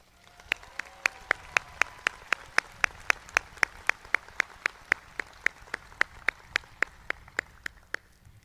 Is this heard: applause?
yes